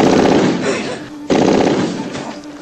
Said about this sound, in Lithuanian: Nuaidėjo šūviai.